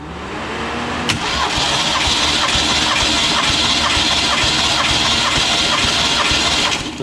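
A 302 V8 engine cranks over on the starter with the throttle open during a compression test, a loud, close, rhythmic churning that runs steadily for several seconds.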